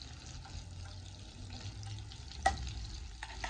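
Garlic sautés in butter in a pan with a soft, fairly quiet sizzle and gentle stirring, broken by one sharp clink of a utensil.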